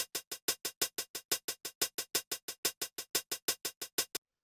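A crisp 80s drum machine hi-hat plays a rapid sixteenth-note pattern, its hits alternating slightly louder and softer in a steady bouncing run, close and dry with nothing else playing.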